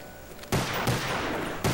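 Gunfire in Call of Duty Zombies on the Shangri La map: sharp, loud shots, three distinct blasts with a dense rattling wash of fire in between, close and booming, with no talk.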